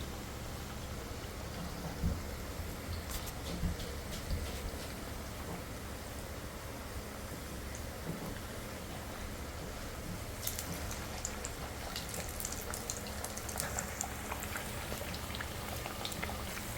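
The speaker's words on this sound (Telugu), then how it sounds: "ఇప్పుడు చూడండి ఆల్రెడీ ఇక్కడ ఫ్రై అవుతున్నాయి" Pappu chekkalu, Andhra-style rice crackers, deep-fry in hot oil with a dense, steady crackling sizzle that continues evenly throughout, with no talking.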